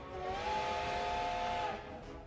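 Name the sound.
train steam whistle in video game Code: Realize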